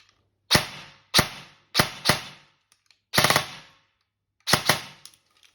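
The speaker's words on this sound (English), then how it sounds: "but you'll get a good idea of what the gun sounds like" A Specna Arms HK416 H20 Edge 2.0 airsoft rifle with 20 ms pre-cocking, powered by a not fully charged 11.1 V LiPo, fires six sharp short bursts and single shots, close and loud, with brief silent gaps between.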